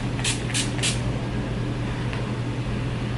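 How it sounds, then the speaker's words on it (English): A matte makeup setting spray gives three quick, close hissing pumps in a row, then a fainter fourth spritz, over a steady low background hum. "So I'm gonna just spray some of my matte setting spray."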